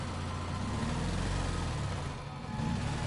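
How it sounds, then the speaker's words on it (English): A truck drives off in the video game Resident Evil 4, leaving a continuous low engine rumble that holds steady and then dips briefly before returning. "Oh no, that's the truck, not the police car."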